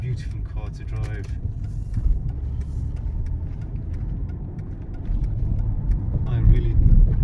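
Mercedes E320 Elegance heard from inside while driving, a steady low engine and road rumble rising slightly toward the end, with speech over it.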